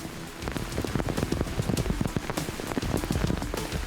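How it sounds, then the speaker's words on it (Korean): Sudden heavy rain pours down outdoors during a military training exercise, a dense, constant patter of drops hitting surfaces with no voices. "갑자기 쏟아지는 비."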